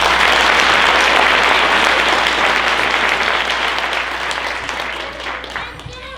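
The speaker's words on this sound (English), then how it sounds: "Go ahead and get a round of applause for him." A pow-wow audience at a Ute dance performance in Steamboat Springs breaks into loud, sustained applause, dense clapping filling the space and slowly tapering off over about six seconds.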